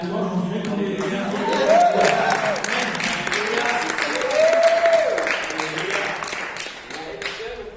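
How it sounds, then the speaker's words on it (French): A church conference audience applauds after a pastor leads worship alone at a piano. The clapping is moderate and continuous for several seconds, with voices and a few sustained tones mixed in, and it thins out toward the end. "Bien sûr, j'aimerais qu'on applaudisse."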